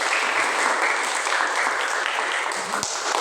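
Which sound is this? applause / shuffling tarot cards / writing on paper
applause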